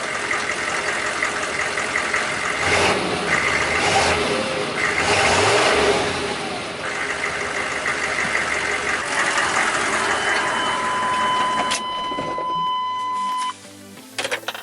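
A Detroit 6.5L diesel engine in an OBS GMC truck with stock, restrictive exhaust idles with a steady clatter, then revs and settles, a high whine appearing before it cuts off near the end.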